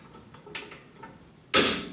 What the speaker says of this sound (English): That's the sound of a torque wrench doing its thing.